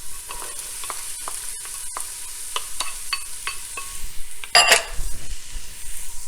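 Warm oil in a pan for lemony lentil soup, a few light clicks of utensils before onion and carrot drop in and set off a loud, sudden sizzle that keeps crackling.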